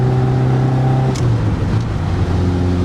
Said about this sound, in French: le moteur se réveille à 3000 tours